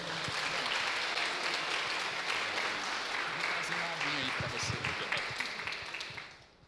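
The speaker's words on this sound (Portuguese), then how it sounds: "Vamos aplaudir ao Senhor?" A church congregation applauds during an evening service, a fairly quiet, diffuse clapping with some voices mixed in, tapering off at the end.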